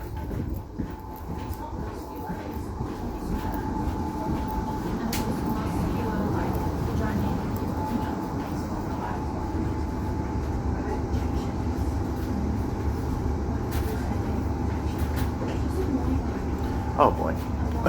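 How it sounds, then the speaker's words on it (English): A passenger train runs on rails on a route toward Perth, giving a steady, close rumble and clatter from inside the carriage, with people talking over it. "looks like this train's running a little bit more express than I thought it would"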